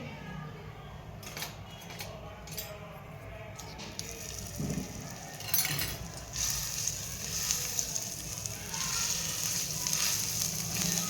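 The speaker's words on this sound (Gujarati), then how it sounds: "તેલ પણ ગરમ થઈ ગયું છે અને મસાલો પણ સરસ શેકાઈ ગયો છે" Masala paste for thecha fries in hot sunflower oil with a soft, crackling sizzle that grows louder partway through, with a few faint clinks along the way.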